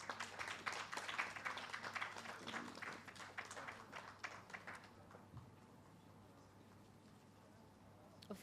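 Applause rings out at a senior citizens' spelling bee competition, a crowd clapping briskly for about five seconds before fading into a quiet, faintly humming hall.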